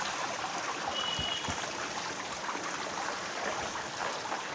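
Someone wades through floodwater during rain, with steady splashing and rushing water close by and a constant wet wash of rain.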